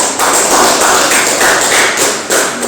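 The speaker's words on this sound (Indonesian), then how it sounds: "Kita beri aplaus kepada kelompok 2." A classroom full of students applauds a presenting group, dense loud clapping that rises and swells for a few seconds with no speech over it.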